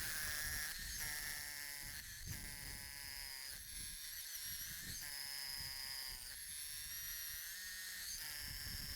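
A power drill bores a 10mm hole into a wall, its motor whining in repeated bursts with pitch dips as it bites, fairly faint but continuous throughout.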